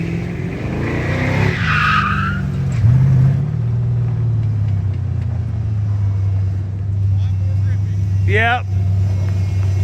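A car drifting in a parking lot, tires skidding and squealing under a steady engine drone, with a brief sharp squeal late on; people talk over it.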